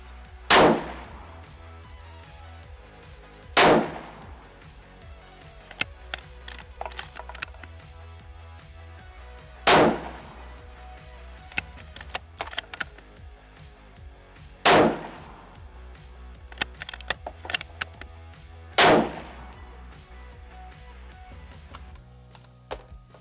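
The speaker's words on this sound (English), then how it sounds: "Okay, that is my first 5-shot group." Five rifle shots fired through a new barrel during break-in, each a sharp loud crack spaced several seconds apart, with quieter clicks and clatter of bolt handling between them.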